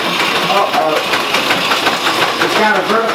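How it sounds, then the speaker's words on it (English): A two-cylinder steam engine runs on a Buffalo Springfield steam roller with a vertical boiler, chugging steadily and loudly at close range while someone talks over it. "There's a little 2-cylinder steam engine down there"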